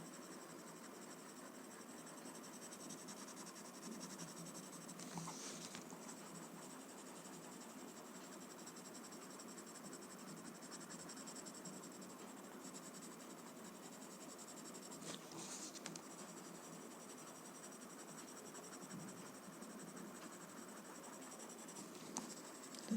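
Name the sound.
graphite pencil shading on paper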